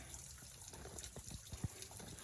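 Water trickling out of the mountainside along Furnace Mountain trail in Virginia, a faint, steady gurgling dribble with a few soft splashes, heard close by in a quiet outdoor setting.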